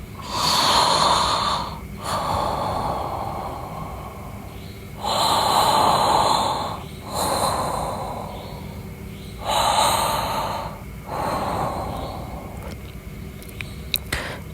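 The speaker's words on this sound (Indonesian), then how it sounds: "suara napas berat dan serak di telinganya" Heavy, rasping breaths repeat in slow cycles, each long noisy exhale fading before the next, close and fairly loud.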